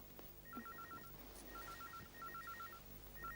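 A telephone rings in a quiet home, with repeated electronic ring bursts in short groups, soft and slightly distant, with no voices.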